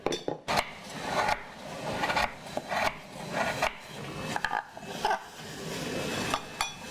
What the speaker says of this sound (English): I'm going to cut the palm sugar.